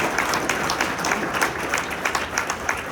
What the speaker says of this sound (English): Let's give them a round of applause even though they're not here.